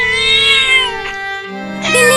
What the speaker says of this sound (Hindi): बिल्ली मौसी रो मत